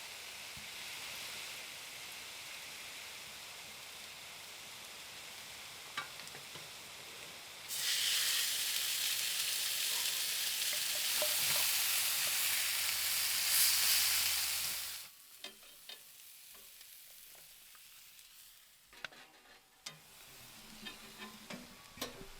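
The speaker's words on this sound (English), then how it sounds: "I'm gonna sear the tenderloin" Beef tenderloin sears in a hot pan inside a tent in arctic cold, a constant sizzle that swells louder midway, then cuts off abruptly, leaving faint clicks and handling noises.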